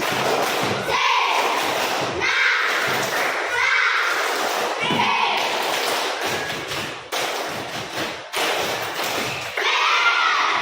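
A class of children joins in a rhythmic clapping chant, the 'tepuk Sirnasari', with claps and voices arriving in steady repeated bursts for the whole stretch, loud and close in the room.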